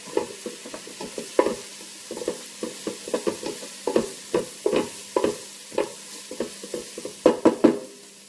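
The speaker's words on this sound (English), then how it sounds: "I don't want my garlic to burn, so I'm going to cook that just a minute" Garlic and ginger paste fry in a pan with a soft sizzle under repeated rhythmic stirring clicks and scrapes of a utensil, close and steady, with no voices.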